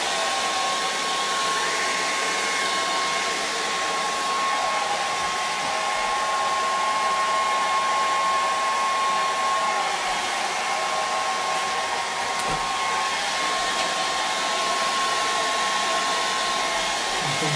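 A hair dryer blows steadily on damp paper during charcoal and acrylic portrait work, a constant whirring roar with a steady whine that runs unchanged throughout, with no talking.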